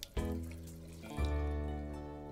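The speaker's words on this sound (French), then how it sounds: "J'ouvre le robinet." Water flows from a bathroom tap, turned on briefly and then again, a soft steady stream at close range, with no voices.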